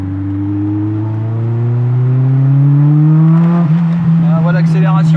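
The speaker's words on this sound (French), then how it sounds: "La pétarade à l'échappement." A car accelerates hard, its engine note climbing steadily in pitch, then the exhaust crackles and pops near the end with a brief voice in the background.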